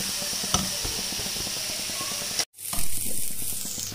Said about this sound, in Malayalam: നമുക്കൊന്ന് ഒരു ലൈറ്റ് ബ്രൗൺ വരുന്നിടം വരെ നമുക്കൊന്ന് ഫ്രൈ ചെയ്ത് കൊടുക്കാം